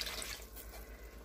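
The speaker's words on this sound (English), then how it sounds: "Add another cup of water" A cup of water is poured into a simmering carne guisada stew in a home kitchen, making a faint, brief splashing trickle with no talk.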